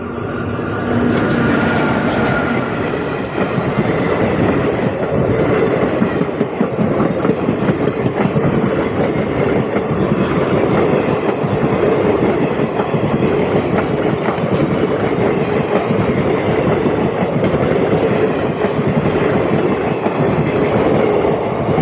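A train runs at Baripada, a loud, close, continuous rumble of wheels on rails with steady rolling clatter and no voices, lasting the whole stretch.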